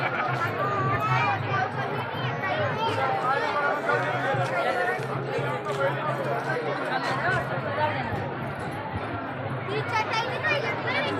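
A large crowd of devotees at a temple near Nanduri, a dense babble of many voices chattering close by, with individual people talking over the continuous hubbub.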